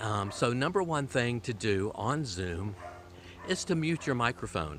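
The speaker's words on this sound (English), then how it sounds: "I don't know if you can hear the dog in the background right now" A dog barks and yips repeatedly in the background, partly masked by someone talking steadily close to the microphone while he walks along.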